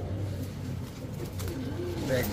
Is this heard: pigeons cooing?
yes